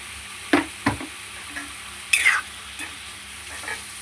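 Tomato and chilli curry cooks in a pan, a soft steady sizzle running beneath a few sharp scrapes and knocks of a spoon stirring the pan, heard up close.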